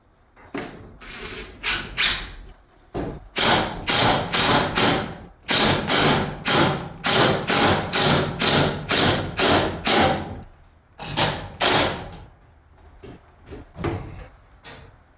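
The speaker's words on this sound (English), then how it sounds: "I'm going to screw, construction screw," A long construction screw with a washer is driven in while converting an overhead garage door opener to a jackshaft opener. A loud, close series of ratcheting mechanical bursts comes with short pauses, and no one talks.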